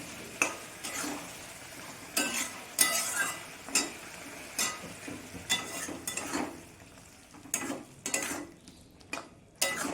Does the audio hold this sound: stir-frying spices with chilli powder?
yes